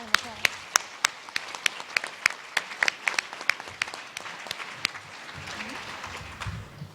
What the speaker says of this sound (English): one more round of applause